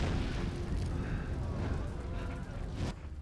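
An explosion from the Korean series Kingdom rolls out as a deep, rumbling boom that sustains for about three seconds before cutting off, with voices talking over it.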